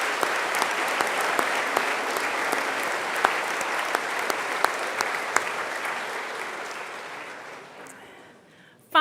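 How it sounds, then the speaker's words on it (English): A graduation audience gives sustained applause for career and technical program graduates, a dense, steady roar of many hands clapping that fades toward the end before a final sharp knock. "Please join me in a round of applause to recognize all of these exceptional graduates"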